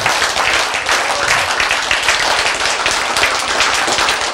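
Loud, dense audience applause from a lecture on cancer treatment, many hands clapping in a steady sustained wash for the whole stretch, with no pause or talk over it.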